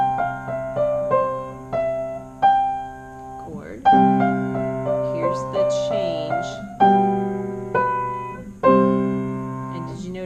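Piano melody played with both hands, plucked notes decaying over a low left-hand line at a moderate pace, with someone speaking briefly over the playing partway through.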